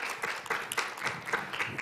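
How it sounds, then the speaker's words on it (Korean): Audience applause at a youth peace forum session, thanking two professors for their feedback; a short, moderate burst of clapping from a room of listeners, fairly even throughout with no voices standing out. "두 분 교수님께 큰 박수 부탁드립니다"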